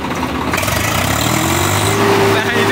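A heavy tractor diesel engine, likely 960, runs steadily with a low, throbbing rumble, close and loud, rising slightly in pitch partway through, with a voice talking over it.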